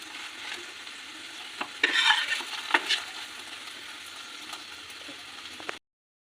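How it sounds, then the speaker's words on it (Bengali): Aloo paratha frying in a little refined oil gives a steady close sizzle, with a louder burst of crackling spatter midway before the sound cuts off sharply. "এবার আলু পরোটাটাকে ভেজে নেব।"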